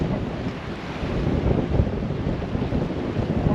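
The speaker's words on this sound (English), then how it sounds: "It's got to be this wind picking up then." Strong wind roars and buffets a microphone outdoors on the bank of the River Humber, a continuous low rumbling gust with no voices.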